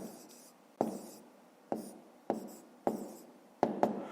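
Close pen strokes writing numbers for a fifth-grade fraction exercise, six sharp scratchy bursts in an irregular rhythm, the last two quick together, each decaying into near silence.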